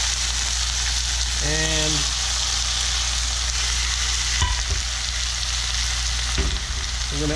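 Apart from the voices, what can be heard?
pork caramelizing and sizzling in a pan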